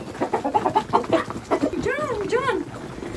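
Backyard hens cluck and squawk in short, rising calls after laying eggs, fairly close and loud, with a person's voice briefly mixed in at the start.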